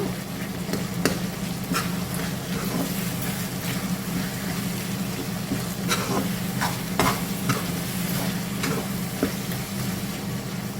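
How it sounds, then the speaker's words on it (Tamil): Tomato chutney cooking in plenty of oil hisses and sizzles steadily while a spoon stirs and scrapes the pan in irregular knocks, close and fairly loud throughout. "இந்த சமயத்தில் கிளறி தக்காளி பழத்தை உடச்சி விட்டோம்னா உடஞ்சிடும் நல்லா"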